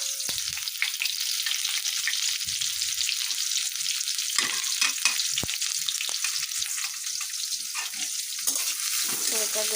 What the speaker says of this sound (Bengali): তো এখন দিয়ে দিব পেঁয়াজ আর রসুন কুচি